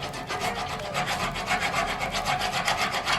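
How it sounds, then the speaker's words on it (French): A hand file rasps across the rounded disc of an MBK Spirit moped in steady, rhythmic back-and-forth strokes, close and continuous. "on met un coup de lime pour bien égaliser"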